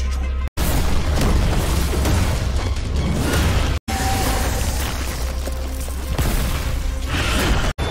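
A storage pouch exploding as a film effect in an animated donghua, a loud sustained booming blast with crackling debris and rumbling low end, broken by two brief silent cuts, no speech.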